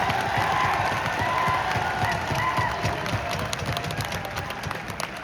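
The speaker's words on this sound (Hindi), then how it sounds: "एक बार जोरदार तालियां आयोजक मंडल के लिए।" An audience at a youth parliament event breaks into loud, sustained applause for the organisers, with dense clapping mixed with some crowd cheering that continues throughout and eases slightly toward the end.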